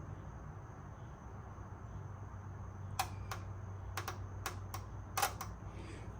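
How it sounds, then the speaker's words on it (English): A car's fuel injectors clicking on and off, several faint sharp ticks in a loose irregular cluster over a steady low background hum, with no voices. "fuel injectors work. Hopefully y'all could hear those clicking on and off"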